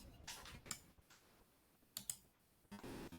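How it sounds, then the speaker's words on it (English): Sharp computer mouse clicks in an office during a casual standup chat, a few loud isolated clicks spaced irregularly, with a denser burst of clicking near the end. "Who's clicking the mouse so loud?"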